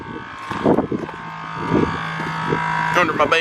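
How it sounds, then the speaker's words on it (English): Air compressor mounted under the bed of an F350 pickup runs with a steady tonal hum behind close voices, with some rattling bursts near the end. "you can probably hear back here my compressor's mounted under my bed"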